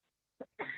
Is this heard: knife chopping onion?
no